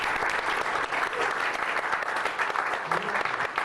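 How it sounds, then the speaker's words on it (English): A big round of applause at a 20KLUTS expo for a speaker, dense continuous clapping from a crowd filling the room at steady volume with a few voices underneath. "Once again, folks, a big round of applause for Rich Allsmiller"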